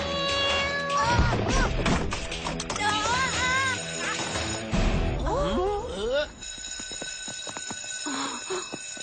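A neighbour's cat meows with several rising and falling calls mixed into a busy animated cartoon soundtrack with music and clattering effects.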